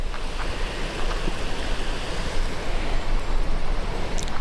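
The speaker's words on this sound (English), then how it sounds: "Nice little creek running through here." A small creek and a tiny waterfall run among giant sequoias, giving a steady, close rush of flowing water with a broad, even hiss throughout and no voices.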